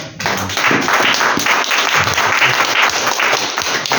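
A church congregation bursts into loud, dense applause acclaiming the Lord, continuous clapping filling the room up close for several seconds.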